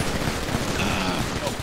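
Rapid gunfire in the GTA RP video game, a dense continuous burst of overlapping shots filling the short moment, loud and close, with faint voices mixed underneath.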